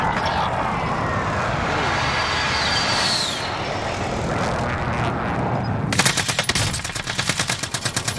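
Rapid automatic gunfire in a competitive tournament shooter match, a dense roar of shots and engine-like rumble that gives way to sharp, rhythmic bursts of firing near the end.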